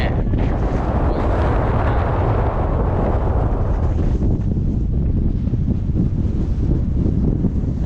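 Heavy wind buffets the microphone nonstop in Bolungarvík, Iceland, a loud rumbling roar with no clear breaks throughout.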